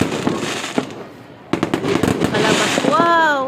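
Fireworks at an SM mall pop and crackle in a series of sharp bursts, one ending in a rising whistle, heard through a window with people talking and exclaiming nearby.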